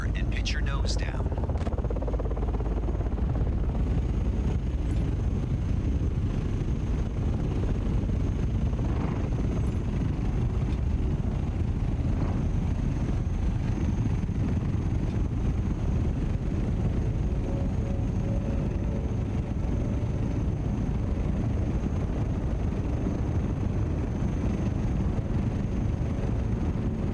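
Dune Royal Ornithopter lifting off at full power in Microsoft Flight Simulator 2020 on Arrakis, a loud, constant rushing drone with a brief clattering burst at the start, while a voice talks over it throughout.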